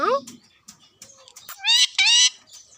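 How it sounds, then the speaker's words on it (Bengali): A pet parrot calls repeatedly while eager for a bath, giving a string of short, bright squawks and chirps that swell into two loud, harmonic-rich calls near the end, with a soft voice briefly heard early on. "গোসল করার জন্য খুবই আকুপাকু করছে এবং খুবই ডাকাডাকি করছে"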